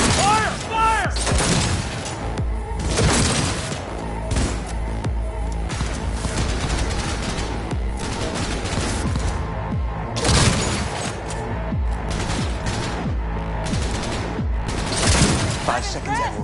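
Cyberpunk 2077 firefight with bursts of gunfire, sharp repeated shots and loud cracks, glass shattering and impacts in clusters, with voices shouting between volleys.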